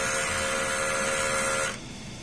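A DTF printer runs a normal print head cleaning cycle, giving a steady, loud mechanical whine with a constant tonal hum that stops abruptly near the end and leaves only faint room noise.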